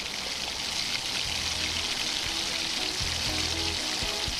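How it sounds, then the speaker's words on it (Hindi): Chicken pieces for nihari sizzle in hot oil in a pot, a steady bright crackle with occasional soft knocks and clinks from the cookware, and no talking. "इसे मैं जब तक फ्राई कर लूँगी जब तक ये इसका कलर जो है वो वाइट नहीं हो जाता"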